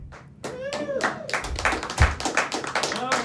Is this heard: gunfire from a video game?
no